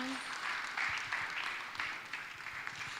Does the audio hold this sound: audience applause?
yes